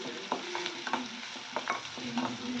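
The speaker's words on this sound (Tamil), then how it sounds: "நல்லா வதக்கிக்கோங்க" Onions and shallots sautéing in plenty of oil, with a steady sizzle broken by repeated scraping strokes of a spoon stirring the pan, close and clear, no voices.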